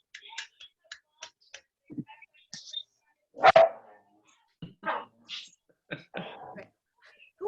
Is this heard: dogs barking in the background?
yes